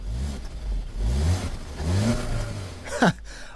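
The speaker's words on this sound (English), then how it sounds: "I rev the engine so you can get a good idea of what the exhaust note sounds like" An Audi A3 engine revs up and settles in a few steady pulses, its low exhaust note swelling and easing, with a brief sharp burst near the end.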